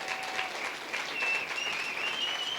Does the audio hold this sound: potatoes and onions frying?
no